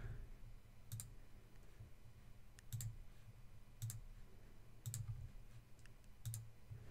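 Computer mouse buttons clicked on a desktop while editing a WordPress page, sharp single and double clicks repeating about once a second, close and clear over a quiet room hum.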